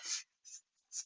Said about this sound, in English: One more shuffle there.